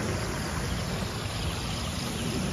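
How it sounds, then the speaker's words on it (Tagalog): Rushing river water of the Rio Magdalena pours in a loud, constant broadband roar, close by and unbroken, with no voices. "Ang lakas ng tubig eh."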